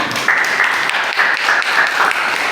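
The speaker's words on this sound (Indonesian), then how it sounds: "Oke, berikan tepuk tangan." Brief applause from a classroom group in an Indonesian teaching session, a steady patter of clapping hands with no talk over it.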